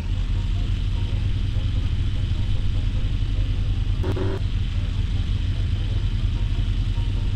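A supercar engine idles steadily in a showroom, a continuous low rumble with an even drone throughout and a brief higher-pitched whine near the middle.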